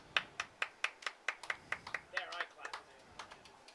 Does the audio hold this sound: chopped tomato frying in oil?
no